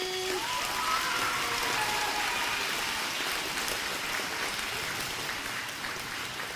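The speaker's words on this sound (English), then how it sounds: "can we give a round of applause to the Tree Commission?" A school crowd applauding steadily at an Arbor Day celebration, a dense, even clatter of many hands clapping that holds throughout.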